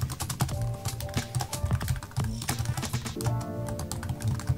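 A command typed on a computer keyboard in a Linux terminal, rapid continuous key clicks in a fast, busy rhythm, close and fairly loud with no speech.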